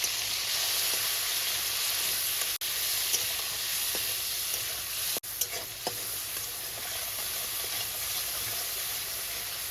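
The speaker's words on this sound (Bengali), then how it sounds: "হালকা করে চিংড়ি মাছটা একটু ভেজে নেব" Shrimp sizzle steadily in hot oil, lightly frying with turmeric, a continuous bright crackling hiss with occasional pops, no voices.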